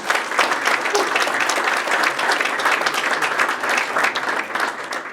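An investor-pitch audience at an accelerator event gives a steady round of applause for a presenter, many hands clapping evenly at moderate volume throughout.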